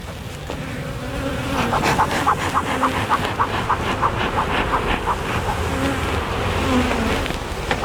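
Honey bees swarm around an open hive being set up for spring, a dense continuous buzz close to the microphone that rises and falls as insects pass, with faint handling noises beneath.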